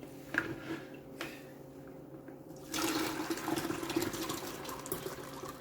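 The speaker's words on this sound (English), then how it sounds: "we're just gonna take this big batch and just strain it all up" A blended pineapple, green apple and ginger drink is poured through a strainer, a soft, continuous liquid splashing and trickling that grows fuller and louder partway through.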